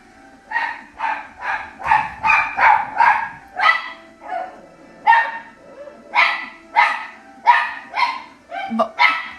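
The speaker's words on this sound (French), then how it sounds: "mon chien jappe parce que ma fille est là avec mon mari" A dog barks repeatedly indoors, loud and close, in a steady run of about a dozen sharp barks with short gaps between them.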